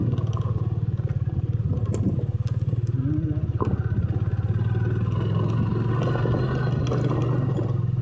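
A motorcycle engine hums steadily throughout at close range, with low rumbling and occasional clatter of the ride, on a ride to Krishna Lake and Amaha Lake.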